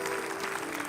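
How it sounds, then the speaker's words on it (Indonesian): Brief burst of audience clapping, a steady wash of applause with a faint sustained tone underneath. "Tepuk tangan untuk mereka."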